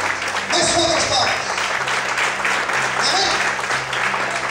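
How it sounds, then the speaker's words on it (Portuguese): Members of a church congregation clap together during a worship service, a full continuous burst of applause that stays loud and busy from start to finish. "Mais forte as palmas."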